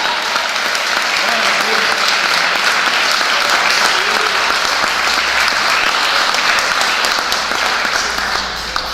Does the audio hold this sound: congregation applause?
yes